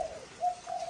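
A spotted dove gives soft, low cooing notes, one longer coo followed by two shorter ones, close and clear with no other sound.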